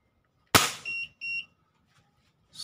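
A single sharp crack from a Crosman 1377 air pistol pumped ten times and firing a light 0.36-gram pellet through a chronograph, followed by a couple of short electronic beeps, then quiet.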